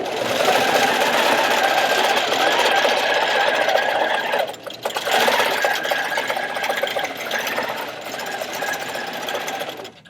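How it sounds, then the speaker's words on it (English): A computerized embroidery sewing machine stitches a heart design with a loud, continuous, fast needle whir and rattle close by, holding steady for about ten seconds with only a brief dip in the middle. "And now it's going to sew our heart."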